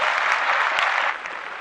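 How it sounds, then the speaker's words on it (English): A short, loud burst of studio applause on a podcast, bright and full for about a second before it drops off quickly into quieter clapping. "Let's clap that up right away"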